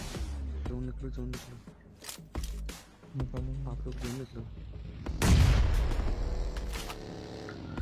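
Sharp gunshots crack repeatedly in quick succession in PUBG Mobile, including Kar98 fire, followed by a louder burst of blasts and rumbling, with a voice talking over the action.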